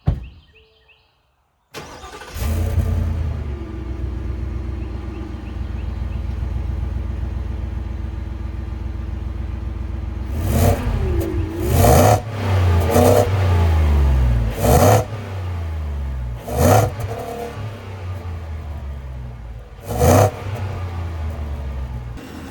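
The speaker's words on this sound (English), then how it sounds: "But yeah, let's start it up." A Ford F-150 XL pickup with the 3.5 EcoBoost hybrid setup cranks and fires up nearby, settles into a steady idle, then gets several short, punchy revs spaced a few seconds apart, no talking.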